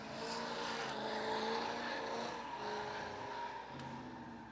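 A supercharged 6.0 liter drift car making over 500 horsepower roars steadily at close range, its engine note holding loud and sustained with tire squeal mixed in as it slides.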